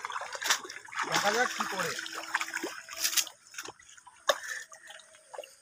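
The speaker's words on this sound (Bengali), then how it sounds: "আস্তে করে জাল তোলো, জাল তোলা হচ্ছে" A fishing net is hauled up from a Sundarban river, water splashing and dripping back off it in irregular bursts while people talk close by.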